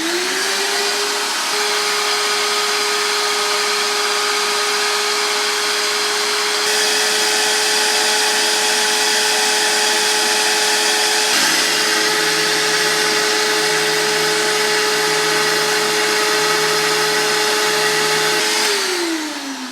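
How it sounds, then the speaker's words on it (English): A regular shop vacuum fitted to a CNC dust shoe in a sailboat workshop runs loudly and continuously, a steady droning roar with a constant motor whine that shifts pitch slightly partway through and winds down near the end. "So I have just this regular shop vacuum here."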